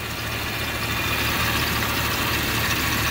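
A 1999 Jeep Cherokee XJ two-door engine idling steadily, a constant low rumble with a faint ticking texture, close and continuous, with no voices.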